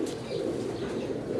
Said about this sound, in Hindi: ये 5वां जो है वो कबूतर आपको दिखा रहे हैं।